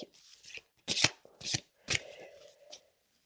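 A deck of oracle cards is shuffled in a few separate bursts of close, papery riffling and slapping, with short pauses between them and a soft murmur near the end.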